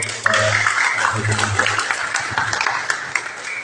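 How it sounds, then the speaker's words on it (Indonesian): An audience at an international university seminar applauds, a dense continuous patter of many hands filling the room, with a voice and low hum audible early on under the clapping. "Tepuk tangan untuk"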